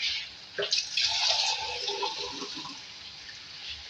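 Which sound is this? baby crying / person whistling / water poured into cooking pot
water poured into cooking pot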